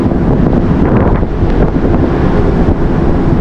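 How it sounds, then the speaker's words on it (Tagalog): Cold wind buffeting the microphone at Glacier Bay, Alaska, a loud, constant roaring rumble with no gaps throughout, close and unbroken by any voice. "Malamig yung hampas ng hangin."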